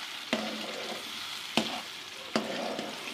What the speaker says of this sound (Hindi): तमाम पेस्ट हमने इसमें डाल दिया और इसको हम भुनाई करेंगे अच्छी सी